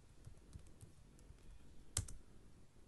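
Password being entered on a computer keyboard, a short run of soft, quiet key taps with one sharper, louder keystroke near the end, like Enter being pressed.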